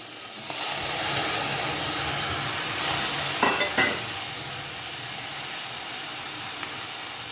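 A pressure cooker steams vegetables for cutlets, giving off a continuous close hiss with a brief louder burst of released steam partway through.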